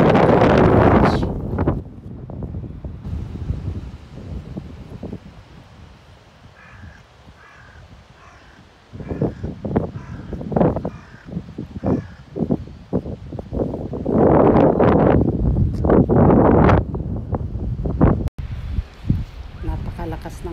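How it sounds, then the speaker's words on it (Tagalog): Strong gusty wind buffets the microphone in loud roaring bursts over a cabbage field in Japan, with a crow cawing in the distance and someone talking in between gusts. "Napakalakas ng hangin."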